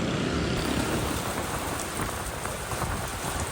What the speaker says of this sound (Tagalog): bumuhos ang napakalakas na ulan sa Quezon City kaninang hapon